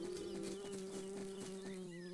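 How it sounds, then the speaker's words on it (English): A honeybee buzzes steadily inside a honeysuckle flower, a close, continuous drone with a strong low hum that holds without a break. "It's the honeybee. She's hiding in a honeysuckle flower."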